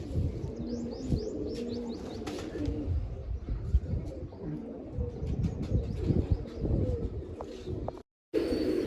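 Pigeons cooing and chirping nearby in a loft, soft repeated calls with occasional sharper tweets, then a brief silent gap before the sound resumes.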